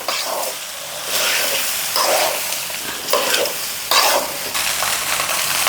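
Rice mixture for potato gongura pulihora being stirred in a pan, rhythmic scraping strokes about once a second over a soft, steady sizzle, close and fairly loud, without speech.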